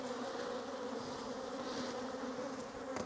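A swarm of honeybees buzzes around a beekeeper on a farm in Portugal. The dense, steady drone holds close and loud throughout, with no talking.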